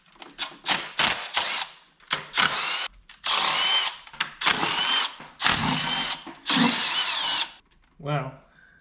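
Power drill or impact driver spinning bolts off a Mitsubishi Mirage valve cover, a series of loud close whirring bursts of a second or so each, separated by short pauses and small clicks.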